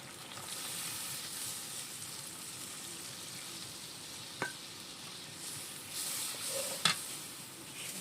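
Milk goes into a pan of sizzling prawn malai curry, giving a steady close hiss of frying with a couple of sharp clinks from a spoon against the pan, and no one speaking.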